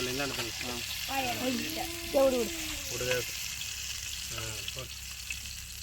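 Pomfret (vavval) fish fries in a pan with a steady, moderately loud sizzle throughout. A person talks over it for much of the time.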